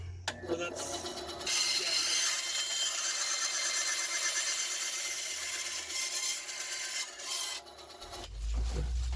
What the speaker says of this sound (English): So let's head to the bandsaw to do the bulk of it.